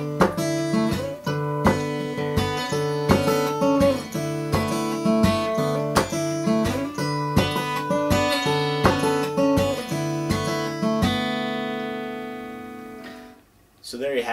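Acoustic guitar played in a finger-picking pattern with percussive slap strums, steady and rhythmic, with a close, clear tone, ending on a ringing chord that fades out.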